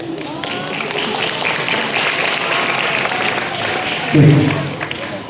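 A talk show audience on an entrepreneurship program claps for a family, a broad wash of applause mixed with crowd noise and a voice speaking over it, swelling briefly louder near the end.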